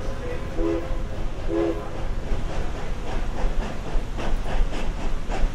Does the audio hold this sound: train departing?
yes